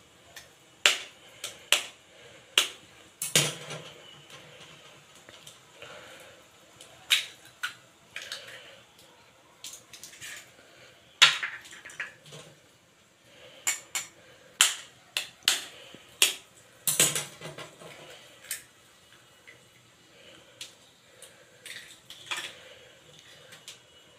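Eggs beaten into simmering curry in a pan for an egg yolk curry, heard as a long run of sharp clicking and tapping knocks of utensil against pan, irregular and close, with soft background hiss between strikes.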